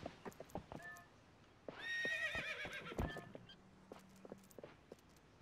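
A horse in Zelda: Twilight Princess gives one loud, clear whinny, rising and shaking, set between sparse game clip-clops and light effects.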